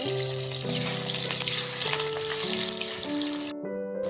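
Pieces of katla fish sizzle steadily in hot oil, with a continuous crackling fry and background music playing throughout.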